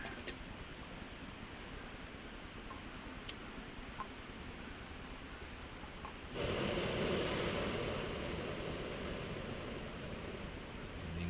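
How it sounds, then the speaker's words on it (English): Quiet rushing background, then a sudden steady roar of a camping gas stove burner catching and hissing loudly from close by. "let's get the old stove started here"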